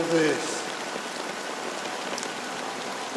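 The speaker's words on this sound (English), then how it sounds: "it's still raining." Rain pours steadily in the video game Honkai Star Rail, a dense even patter that carries on throughout with a brief faint voice-like tone at the start.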